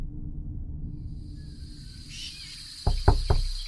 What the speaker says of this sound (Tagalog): may narinig naman kaming katok mula sa pinto at boses ng babae